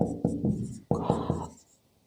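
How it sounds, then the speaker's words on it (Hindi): Chalk or marker writing on a classroom board, heard as several sharp taps and short scraping strokes in two quick bursts before the sound trails off. "मैं लिख रहा हूं"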